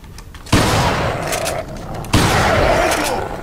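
Two heavy gunshots from the Resident Evil 4 mod Extreme Condition, each a sharp loud blast followed by a long rumbling decay, about a second and a half apart, close and dominant with no talk over them.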